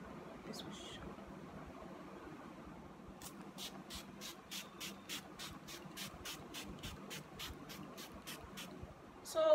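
Rapid bursts of a makeup setting spray's pump hiss in a steady series of short puffs, close up over a low background hum.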